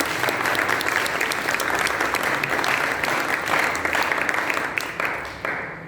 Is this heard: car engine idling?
no